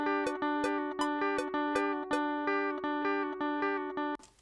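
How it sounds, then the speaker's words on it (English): Electric guitar parts for an album demo, a single chord struck in a steady repeated rhythm of about eight to nine even hits, bright and processed with effects, ending in a brief noisy cutoff; no talking. "So I've recorded the guitar parts."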